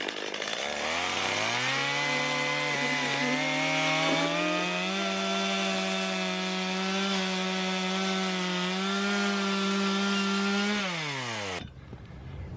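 Chainsaw revving up and cutting into a leather work boot without a steel toe, loud and close, holding a steady high whine for about nine seconds before winding down and stopping.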